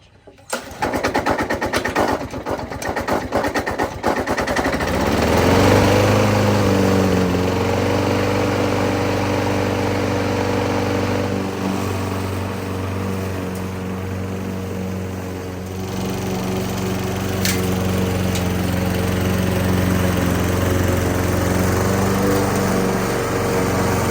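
A lawn mower engine with a new carburetor sputters and catches after a few seconds, then runs on loudly and steadily at close range with a constant droning hum.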